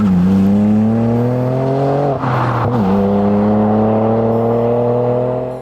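A loud, close BMW G87 M2 sports car engine revs steadily, dips briefly as a gear shifts, then climbs again in a smooth, strong drone.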